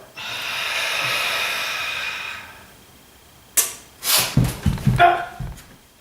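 A person in a kung fu breathing drill draws a long, steady breath in, then after a brief pause forces out a series of hard, sharp, snorting exhales in close succession, all near and loud.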